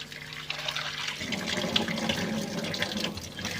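Tap water runs steadily into a sink while anchovies and lime are rinsed under it, with splashing and faint handling noises close by.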